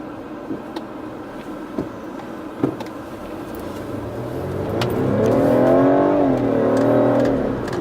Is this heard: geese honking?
no